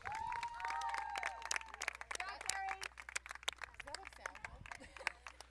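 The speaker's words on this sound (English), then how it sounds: "so they do hear you cheering a little bit." Spectators clap and cheer along the course of a stage of the ENDURrun multi-day running race, with a steady stream of crowd noise and scattered whoops beneath nearby talking voices.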